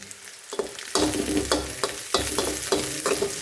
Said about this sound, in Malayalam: ഒന്ന് മൂപ്പിച്ചെടുക്കുക വറ്റൽ മുളക് കറിവേപ്പില ചെറിയ ഉള്ളി എല്ലാം